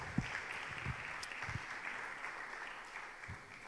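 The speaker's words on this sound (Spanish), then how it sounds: "¿Qué tal si le dan un fuerte aplauso a Dios en esta noche?" A church congregation gives a strong round of applause during an evening service, a dense, steady wash of clapping with a few sharper individual claps standing out, no voices.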